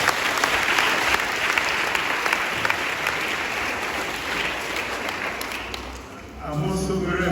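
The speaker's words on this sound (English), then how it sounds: "let's give them a big clap." A church congregation breaks into sustained, dense applause that fills the room for several seconds before fading as a voice resumes.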